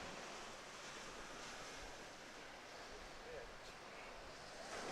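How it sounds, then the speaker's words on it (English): Small ocean waves roll in and break during a surf race, a soft, constant wash of surf mixed with light wind noise, faint and distant. "The little waves coming in."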